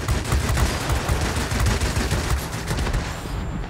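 Sustained machine-gun fire from a warplane in the video game World of Warplanes 2.0, a dense continuous rattle of rapid shots that stays loud and steady throughout, with no voices.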